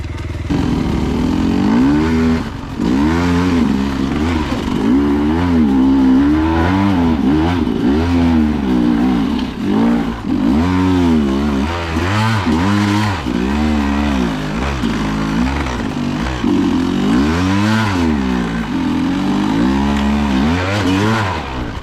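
A Yamaha motocross motorcycle climbs uphill through a forest, its engine loud and close as it revs and surges over and over with a clattering, strained tone. The revving carries on steadily for about twenty seconds, with no talking.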